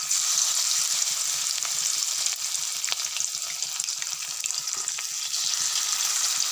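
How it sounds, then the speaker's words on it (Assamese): Banana flower pakoras fry in hot oil, a dense continuous sizzle and crackle heard close and alone, with occasional stirring sounds. "ধুনীয়াকৈ তেলত ভাজিম"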